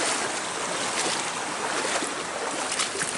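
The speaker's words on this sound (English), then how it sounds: "so wading the river" Steady rushing water as someone wades through the shallow River Dilar, a continuous broadband wash with faint splashes, close and alone without speech.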